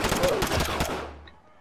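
Gunfire in the tactical shooter game Squad, a dense, fast burst of rapid shots loud and close, trailing off after about a second and a half.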